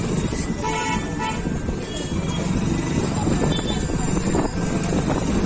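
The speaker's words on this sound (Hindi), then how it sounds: "सोम बाजार ट्रैफिक बहुत है" Dense traffic on a busy market street fills the scene with steady engine rumble and repeated car horn toots, loud and close, with voices mixed into the din.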